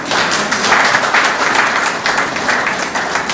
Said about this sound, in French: Est-ce qu'on peut acclamer, s'il vous plaît?